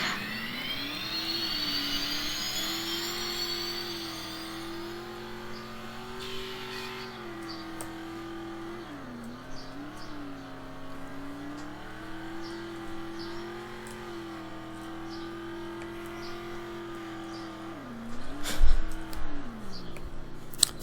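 A hypercar in Roblox Ultimate Driving hits its boost, a sustained whining engine drone with a rising whoosh at the start, holding steady and wavering before a louder burst near the end.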